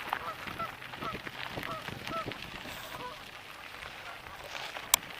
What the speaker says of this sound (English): It's not a duck, so it must be a goose, right?